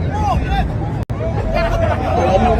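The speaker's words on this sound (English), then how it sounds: "You hear the crowd?" Crowd chatter fills the air as a dense, continuous babble of many voices, fairly loud and close, broken only by one very brief dropout.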